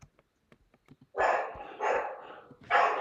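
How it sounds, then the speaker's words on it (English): A dog barks close and loud in a house, three bursts in quick succession after a few faint taps and rustles. "Can you hear the dog?"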